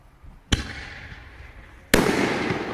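A Winda Ghost Shell 9-shot fireworks rack fires: a sharp launch bang, a trailing crackle, then a second louder burst followed by sustained crackling and hiss, close and loud with no voices.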